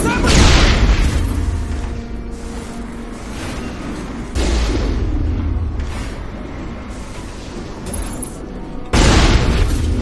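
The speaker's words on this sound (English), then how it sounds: "it's kind of difficult to defend yourself against cannon fire when you're behind fragile cover like that" Heavy cannon fire in the Mass Effect video game: loud, booming explosions, one right at the start and two more about every four seconds, each trailing into a long rumbling decay.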